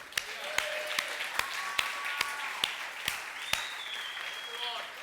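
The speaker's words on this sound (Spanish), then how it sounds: "hay que darle un aplauso al Señor" Rhythmic clapping from a church conference crowd, sharp evenly spaced claps under a murmur of voices and some singing-like tones.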